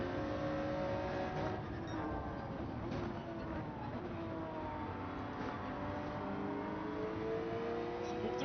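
A Group 3 race car in Gran Turismo 7: a steady, high engine whine that keeps up for the whole stretch, with rising and falling pitch as the car shifts gears and other cars pass, faint and a little distant under a small amount of talk.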